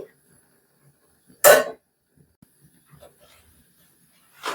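Lid set down on a pot of lentils for steaming, a single sharp metallic clatter standing alone in a quiet kitchen, with faint small knocks afterward.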